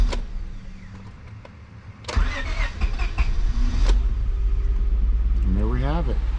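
After a few clicks, a car engine cranks and fires up on the ignition key, then settles into a steady low rumble that runs to the end; a voice speaks briefly near the close.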